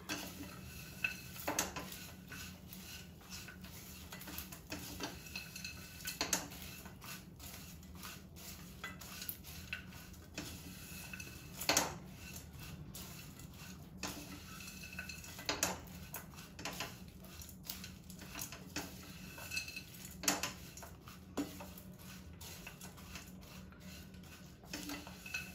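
A spoon stirring homemade muesli coated with honey in a bowl, giving soft irregular clinks and scrapes against the bowl at close range over a quiet background, no talk.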